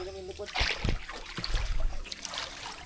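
People splash and wade into cold lake water, with bursts of splashing and trickling close by amid chatter and excited voices.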